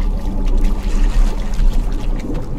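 Swimming through water in the video game Conan Exiles, a continuous close sloshing and splashing with trickling, pouring textures and no voices over it.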